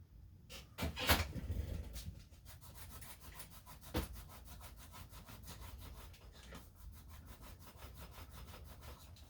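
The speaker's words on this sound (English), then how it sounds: "This is our unreeded side that I'm going to put a reed on right now." Repeated scraping and filing strokes on the edge of a silver 1963 Franklin half dollar coin ring as reeding is cut in, a close rhythmic rasp with a couple of sharper knocks, no talking.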